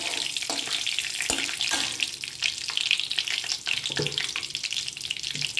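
Cumin seeds fry in hot oil for a vegetable curry with radish, cauliflower, capsicum, carrot and potato, making a close, continuous sizzle and crackle with occasional stirring clinks and no talking.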